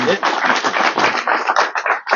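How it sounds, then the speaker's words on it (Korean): An audience at a hero memorial monument unveiling ceremony at an army student military school claps in dense, sustained applause that fades briefly near the end. "다시 한번 뜨거운 박수 부탁드리겠습니다"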